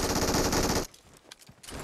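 Rapid automatic gunfire in a shooter video game, a dense loud burst of shots lasting under a second before cutting off, followed by quieter scattered game sounds.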